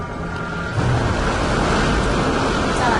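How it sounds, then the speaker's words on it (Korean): Seawater washing over a diving submarine's deck, a steady broad rushing wash of water and surf that swells louder partway through, continuous and close. "잠수함이 이제 바닷물 속으로 가라앉게 되는 걸 볼 수 있어요"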